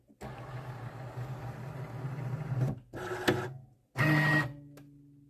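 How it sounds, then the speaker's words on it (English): A Cricut Maker 4 cutting machine powers up with a steady mechanical whir for a few seconds, then short motor bursts and a final chime-like tone as it initializes, close and clear with no talking. "So that's all it took for the machine to start up."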